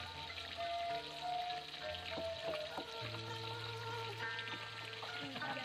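Tilapia frying in a pan outdoors gives a soft, steady sizzle and crackle at moderate distance, with faint clinks and pops throughout.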